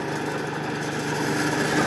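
A small 700 W washing machine motor, repurposed on homemade grain-handling equipment, runs steadily with a constant close-up mechanical hum and whir, unchanging throughout.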